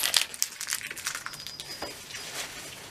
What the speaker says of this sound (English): that is my cat playing with her toys.